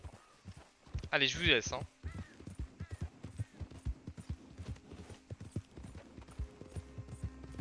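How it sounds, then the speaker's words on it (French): Horse hooves clip-clopping in Red Dead Redemption 2, a walking rhythm of soft thuds continuing under someone speaking French, with a brief louder game sound early on. "N'ayez crainte, c'est juste mon cheval."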